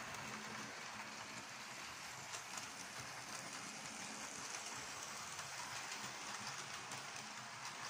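Somerset express train running non-stop through a station, a steady continuous rumble with rail clatter and rushing noise throughout, no voices.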